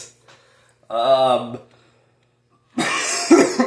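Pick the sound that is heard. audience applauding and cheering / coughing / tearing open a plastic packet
coughing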